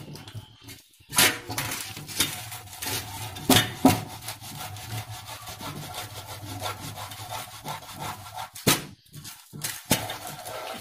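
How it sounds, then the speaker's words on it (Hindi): Boiled potatoes are grated by hand on a kitchen grater, producing repeated scraping strokes in an uneven rhythm, close and moderately loud, with short pauses between bursts. "सारे आलू को मुझे ऐसे कद्दूकस करना है"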